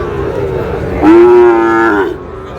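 A Sahiwal bull calf at the Raniganj cattle market in Dinajpur lets out one loud, close, sustained moo lasting about a second. A low murmur of market noise sits behind it.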